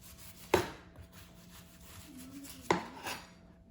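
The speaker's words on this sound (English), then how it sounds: "Put the onion flat and cut it in half." A knife cutting an onion for French onion soup, two sharp thuds against a board spaced about two seconds apart, close and otherwise fairly quiet.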